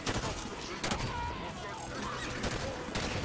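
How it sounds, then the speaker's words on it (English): Promethean weapons firing in Halo 5, a rapid series of sharp energy-weapon shots and bursts ringing out over busy game ambience, fairly loud throughout with no speech. "The cool thing about Promethean weapons in Halo 5 is it actually tracks the enemies"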